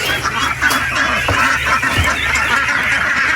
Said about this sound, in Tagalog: silipin muna natin yung mga itik natin dito